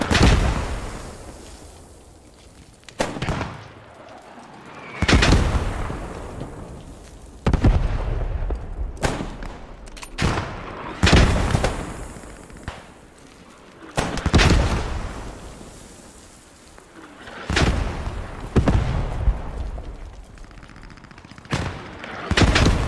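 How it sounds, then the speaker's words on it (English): Incoming mortar fire pounds a World War II battle at Driel in a video game, with heavy booming impacts landing every few seconds, some near and loud, others duller, separated by rumbling lulls. "Taking mortars now."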